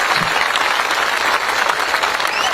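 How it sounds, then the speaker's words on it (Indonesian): An audience at an Islamic sermon gathering claps for Mas Andri, dense, loud, sustained applause from a large crowd throughout, with no voices over it. "Tepuk tangan untuk Mas Andri."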